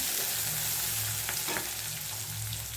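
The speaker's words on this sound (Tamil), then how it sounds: "கருவேப்பிலை இதெல்லாம் சேர்த்து நல்லா வதக்கிக்கலாம்" Onion, two dried red chillies and curry leaves sautéing in hot oil in a pan during tomato upma preparation, a steady close sizzle with brief stirring scrapes, no talking.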